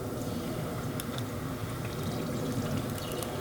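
Dry pasta dumped into a pot of water on a camper stove, a steady rushing pour with faint clatter, heard alone without talk.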